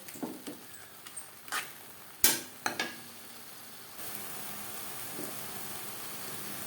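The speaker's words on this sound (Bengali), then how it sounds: "চিকেন মশলার সাথে চিকেন বেশ ভালো করে মিক্সড করে দেবো" Chicken being mixed with chicken masala in a pan for egg chicken tadka: a few scraping stirs and one sharp clank of utensil on pan, then a steady low sizzle continues quietly to the end.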